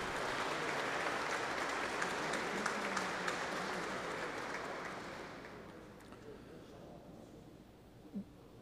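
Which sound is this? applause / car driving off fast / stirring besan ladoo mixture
applause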